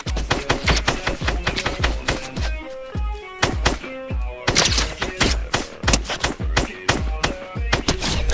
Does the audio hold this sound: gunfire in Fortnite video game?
yes